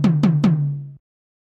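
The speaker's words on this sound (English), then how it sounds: "So it's that very 80s synth tom." Three quick punchy synth tom hits from an Oberheim DMX drum machine, each a sharp attack falling into a short low pitched tone, the last one ringing out about half a second before cutting off cleanly.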